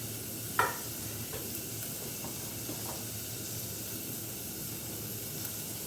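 Steady sizzling of vegetable sabzi frying in a pan with grated coconut and turmeric, joined by a few light stirring scrapes near the start and faint utensil taps over a constant hiss.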